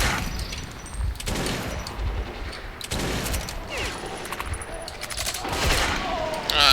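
Enemy gunfire in the video game Metro 2033, several separate bursts of rapid automatic shots spaced a second or so apart, sharp and fairly loud over a murky game ambience.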